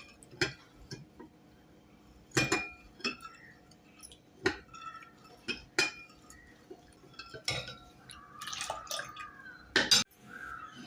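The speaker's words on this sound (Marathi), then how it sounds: "पुन्हा एकदा छान ढवळून घेऊया" Spiced buttermilk with coriander and a little sugar being stirred in a pot, giving scattered light clinks of a spoon against the vessel with a few soft watery drips, close and fairly quiet, with no talk.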